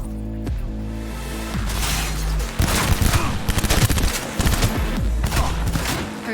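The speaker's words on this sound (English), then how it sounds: "Heard shots." Rapid gunfire bursts rattle through a Cyberpunk 2077 firefight, loud and close, with sharp shots layered over a droning background score.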